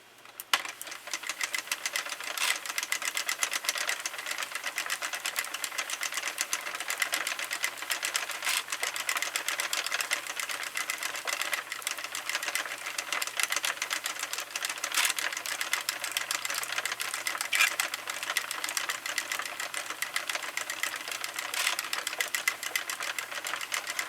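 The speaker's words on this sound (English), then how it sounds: "crank up a bunch more rows" Sentro knitting machine being cranked through row after row of velvet yarn, giving a steady, fast, continuous clattering and rattling of plastic needles close up. It runs on without pause or talk.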